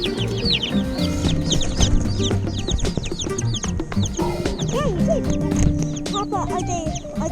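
Many small chicks cheep constantly in high chirps close by, with voices talking underneath.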